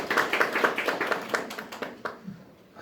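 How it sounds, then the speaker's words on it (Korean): An audience applauds at the opening of an orientation session for a social entrepreneur training program, a short run of rhythmic, fairly close clapping that thins and fades out within a few seconds. "큰 박수 부탁드리겠습니다"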